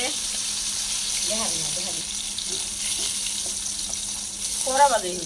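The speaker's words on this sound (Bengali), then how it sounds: "মাছ হচ্ছে ভাজা হয়ে গেছে" Fish sizzles steadily in hot oil in a pan on an LPG gas stove, a constant close hiss that carries on beneath people talking over it.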